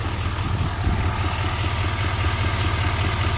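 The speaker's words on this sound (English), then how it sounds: "I don't know if you can hear it in the video, the way the engine runs. It runs like, there's a knock." A 2020 Chevy 3500 Duramax diesel with Allison transmission idles steadily up close, a low, even rumble with a faint rhythmic knock running through it, no talk over it.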